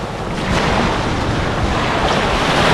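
Ocean waves wash steadily onto a sunlit beach in a continuous loud rush of surf, with a soft wind-like hiss and no voices.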